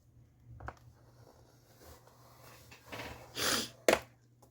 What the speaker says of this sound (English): Sorry for my sniffling.